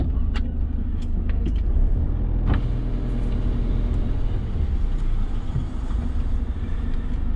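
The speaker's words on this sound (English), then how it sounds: "Been lots of different nationality of cars going on." Cars drive onto a ferry while boarding for France, with a close, continuous engine rumble and a few sharp clanks over the steady traffic noise.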